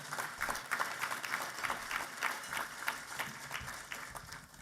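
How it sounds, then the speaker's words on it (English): An audience at the GOSO 2021 gala claps at a fairly low level, giving a steady wash of many hands that fades slightly toward the end. "round of applause for that."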